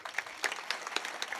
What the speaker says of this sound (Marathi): मोकळ्या टाळ्या वाजवा एकदा